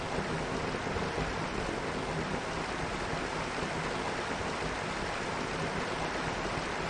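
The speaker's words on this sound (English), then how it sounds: "Why is this water making a running sound when it's clearly static?" Steady rushing water fills a video game map, a constant broadband running-stream wash with no breaks, fairly loud and even from start to finish, with no voices.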